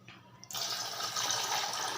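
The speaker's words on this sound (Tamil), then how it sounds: "இன்னும் ஒரு டம்ளர் தண்ணி ஊற்றிக்கலாம்" Water poured into a glass of freshly squeezed lemon juice, a steady splashing pour starting abruptly after a brief quiet moment and continuing close and loud to the end, with no talking.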